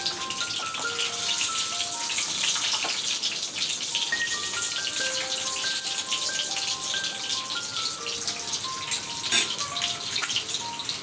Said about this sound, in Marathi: इथे आपली अंडी व्यवस्थित अशी फ्राय करून झालेली आहे।